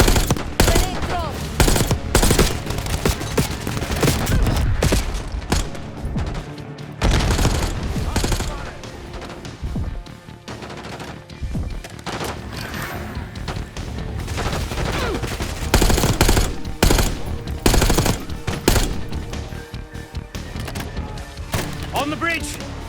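Dense gunfire from a Call of Duty: Black Ops 6 firefight on a bridge: continuous bursts of automatic weapons and single heavy shots with thuds, loud and close, under shouted squad callouts.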